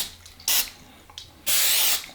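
Two hissing bursts from an oil spray can coating breaded chicken pieces before oven baking, a short spray then a longer one, close up with no talking.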